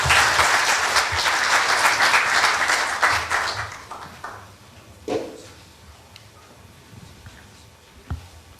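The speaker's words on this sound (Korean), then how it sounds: "박수로 환영해 주시면 대단히 감사하겠습니다" A forum audience applauds to welcome a speaker, with strong, full clapping for about three seconds that then thins and fades, followed by a couple of isolated knocks.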